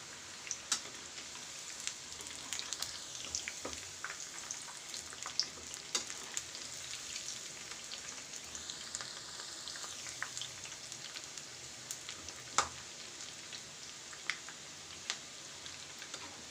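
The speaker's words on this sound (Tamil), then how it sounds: "நல்ல ஆயில் காஞ்சதுக்கப்புறமா போடுங்க அப்போ தான் நல்ல மொறு மொறுன்னு கிடைக்கும்" Potato pakoda frying in hot oil: an even, fairly soft bed of bubbling sizzle runs throughout, dotted with scattered small pops and crackles, with no voices.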